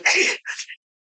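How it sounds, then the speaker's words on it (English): A single sneeze, a sharp breathy burst followed by a shorter second exhale, close and clear, then silence. "Hold on, I gotta sneeze."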